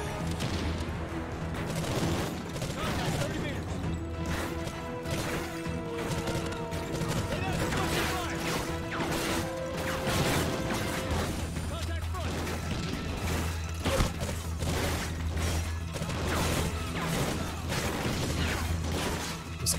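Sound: gunfire from video game Call of Duty: Ghosts

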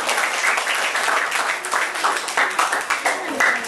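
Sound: audience applauding the debate speaker

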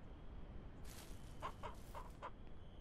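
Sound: chicks clucking in video game Ranch Simulator

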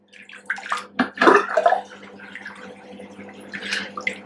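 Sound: squeezing rinse water out of a knitted wool swatch

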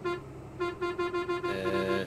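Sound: truck horn honking in Euro Truck Simulator video game

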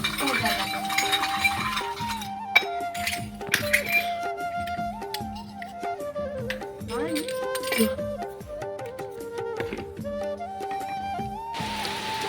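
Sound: scrubbing and washing metal puja utensils

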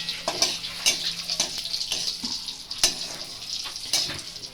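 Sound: radhuni spice tempering frying in oil

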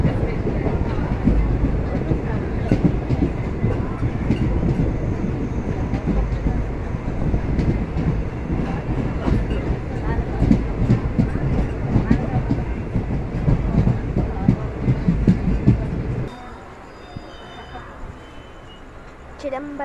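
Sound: passenger train (Chentur Express) arriving at Chidambaram station

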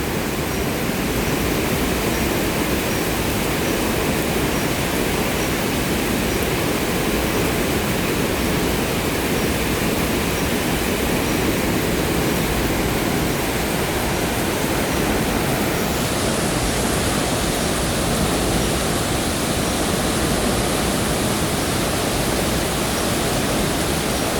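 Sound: waterfall

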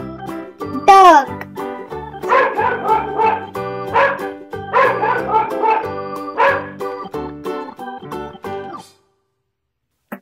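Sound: dog barking

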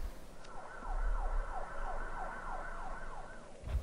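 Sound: sirens of emergency vehicles

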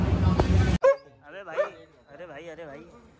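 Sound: dog barking

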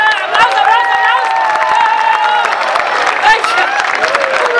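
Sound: audience applause after unicycle acrobatics

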